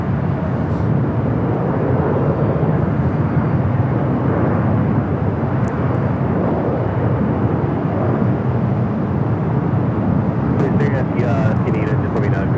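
An airliner inbound from JFK arrives at LAX, a steady broad engine roar heard from a distance for the whole stretch, with faint voices at times.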